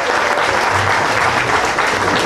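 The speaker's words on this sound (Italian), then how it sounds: "Un applauso al tecnico," Dense, loud audience applause for a technician at an Italian comedy show, a continuous wash of many hands clapping at once with no break.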